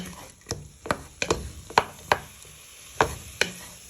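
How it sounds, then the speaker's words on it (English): Beef Madras being stirred in a pan with a spoon, giving about eight sharp scraping knocks at an uneven pace over a soft background sizzle, close and with no talk. "Stir this for a few minutes"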